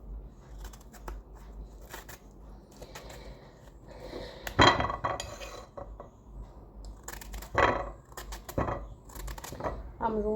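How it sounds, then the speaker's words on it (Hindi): A knife cuts through a guava in a home kitchen, giving soft irregular chops and clinks against a plate, with louder knocks partway through and someone talking now and then nearby. "अमरूद काट रही हूँ मैं"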